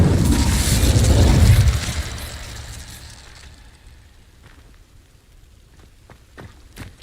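Incendio fire spell igniting dry vines in Hogwarts Legacy: a loud whooshing, roaring burst of flame with a low boom that fades over a couple of seconds, followed by faint scattered crackles and pops.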